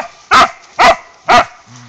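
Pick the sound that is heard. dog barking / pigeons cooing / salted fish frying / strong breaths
dog barking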